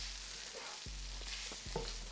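Flour cooking in a pan for a Cajun cream sauce, a faint steady sizzle with soft scraping and stirring taps, close and quiet with no talking.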